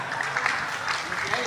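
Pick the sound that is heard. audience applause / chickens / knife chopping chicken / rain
audience applause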